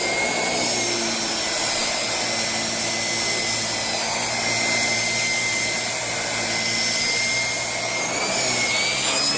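A Shark Rotator Speed Lift-Away vacuum cleaner, a 2018 model, runs steadily while picking up hair, giving a loud, continuous whining roar with a high motor tone and no speech over it.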